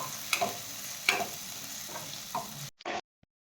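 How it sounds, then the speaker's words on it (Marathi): Ground corn sautéing in a pan for corn shira: soft sizzling and scraping stirs recur a few times, then the sound cuts out near the end with a brief clatter. "आपण यामध्ये घालूयात बारीक केलेला कॉर्न हा छान आपल्याला पाच ते सहा मिनिट परतून घ्यायचा आहे"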